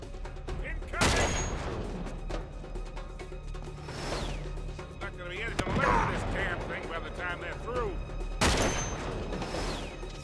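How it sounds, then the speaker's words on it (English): Enemy gunfire in the video game Uncharted 3: Drake's Deception, several loud bursts of shots and booms between quieter action sounds, with voices talking over the fighting. "Not while they're firing at us, we can't!"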